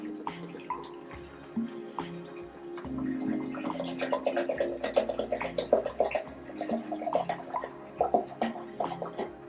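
A litre of mineral water is poured into a blender for homemade organic soy milk, a steady bubbling, gurgling stream with close dripping splashes building over several seconds.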